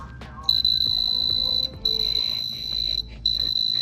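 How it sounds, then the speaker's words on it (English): A prank beeper's shrill electronic alarm beeps in sustained high-pitched bursts, cutting out briefly and restarting, with background rattling and faint murmuring underneath. "That's like a whole ass alarm."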